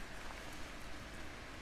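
Rain falling in Calabria, southern Italy, a soft, steady, even hiss of drops with no distinct individual hits, faint and unbroken, with no one speaking.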